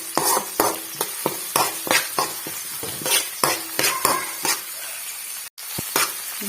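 Ginger and turmeric fry in a pan with a soft sizzle under repeated, evenly spaced scrapes and clinks of a spoon stirring against the pan, close and clear with no talking.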